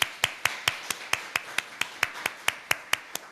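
Rhythmic clapping at a Korean church's Sunday service in Darmstadt as the congregation welcomes one another, sharp, evenly spaced claps at a quick, steady beat, fairly faint and with no talking over them.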